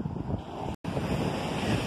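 Sea surf washes onto the beach at Farol de São Tomé in Campos dos Goytacazes, Rio de Janeiro, as a constant broad roar with heavy wind buffeting and a brief cut-out partway through.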